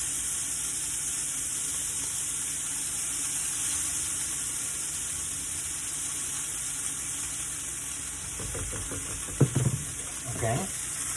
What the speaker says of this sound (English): Basically, we're making scrambled eggs with chorizo, a bed full of cheese that is gonna make our costra.